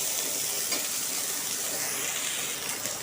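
Bitter gourd and potato pieces frying in a wok, a dense, even hiss of sizzling oil filling the whole stretch at close range.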